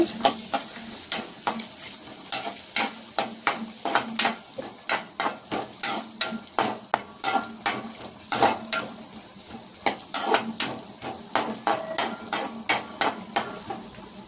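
Coconut pieces and cashews frying in hot ghee for jaggery pongal, a low sizzle punctuated by frequent rhythmic spatula clacks and scrapes against the pan, close and steady with no voices.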